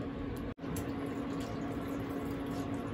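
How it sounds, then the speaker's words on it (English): Miso ramen soup poured from a pot into a bowl of noodles, a steady, close liquid rush that runs for the whole stretch, broken only by one brief gap near the start. "Drain your soup into the noodle."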